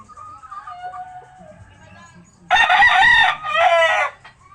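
Pet chickens kept as trained birds: soft clucking at first, then a loud close rooster crow in two bursts.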